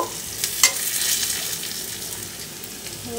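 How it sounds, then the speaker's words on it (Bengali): Boiled greens are stirred into a frying pan with onion and garlic, a steady sizzle with a few scraping strokes near the start, loud and close. "এখন আমি সিদ্ধ করে রাখা শাকগুলি এখানে দিয়ে দেব"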